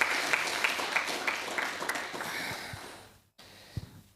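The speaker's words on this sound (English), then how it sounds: "Give yourselves a round of applause." An audience at a tech talk event applauds itself, a broad patter of clapping that gradually fades, drops to near silence, then gives way to a couple of isolated thumps and handling noises.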